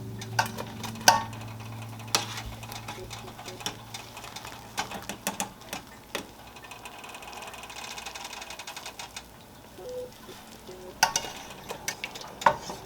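Gnocchi soup simmering in a pot in a homestead kitchen, giving off scattered soft pops and clicks over a quiet bubbling bed, close by and with no voices.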